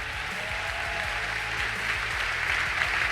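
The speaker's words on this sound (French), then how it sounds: "vous le croyez, applaudissez pour le Seigneur." A large church congregation gives sustained, dense applause at a conference, a steady wash of clapping over a low rhythmic backing music line.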